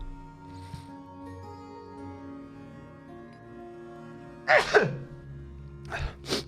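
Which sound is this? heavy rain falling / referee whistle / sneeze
sneeze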